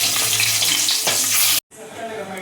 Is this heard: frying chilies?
yes